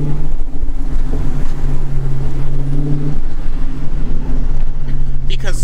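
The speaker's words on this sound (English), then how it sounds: "I'm yo-yoing the throttle" A Dodge Challenger Hellcat with its mid muffler removed revs as the throttle is blipped up and down, giving a loud, close, rumbling exhaust note that rises and falls, with rough wind buffeting over it.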